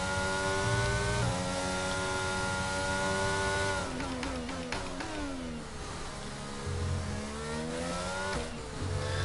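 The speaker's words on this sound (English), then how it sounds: "Car sound has been improved quite a bit." Formula 1 race car engine in the racing game F1 22: a high, sustained engine whine that climbs and drops through gear shifts, steady and loud throughout with no voices.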